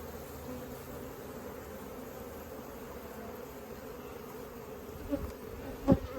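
Honeybees buzzing steadily around an open beehive during an inspection, a dense close hum with occasional louder passes of individual bees near the end.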